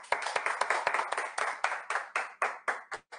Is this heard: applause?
yes